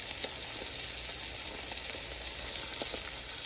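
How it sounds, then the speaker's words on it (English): Egg cooked inside meat in the style of a one-eyed Jack sizzles steadily in butter in a pan, a continuous close frying hiss with small crackling pops throughout and no talk. "I'm cooking it in butter"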